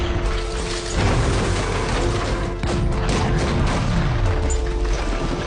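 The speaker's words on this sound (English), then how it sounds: "The tanks began bombarding the building." Tanks shell a building in a war film with loud, continuous heavy blasts and crashing impacts over a deep, sustained rumble, like an unbroken barrage for several seconds.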